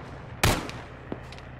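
A single loud, close gunshot burst in the military game Arma 3, a sharp broadband crack with a short decaying tail, followed by a fainter distant pop and a few soft clicks.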